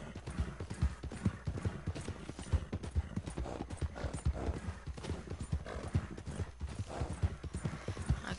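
Horse hooves clip-clopping in Red Dead Redemption 2, a steady galloping rhythm of close, regular hoofbeats with occasional whinnying, running continuously and fairly quietly.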